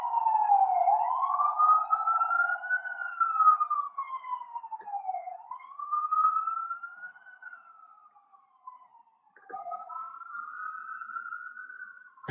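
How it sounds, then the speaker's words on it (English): An ambulance siren stuck just outside a door wails loud and continuous, sweeping up and down in long slow cycles, with a brief dip and a fresh rise near the end and no talking over it. "what are the chances that we would have an ambulance stuck outside of my door"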